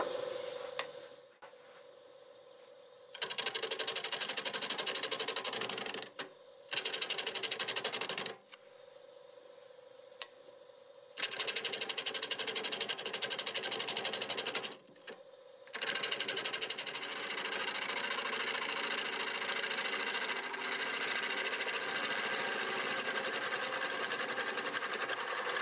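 A wood lathe spins a Siberian elm bowl at 700 RPM while a tool cuts in bursts, the steady hum and scraping switching on and off with short pauses between passes.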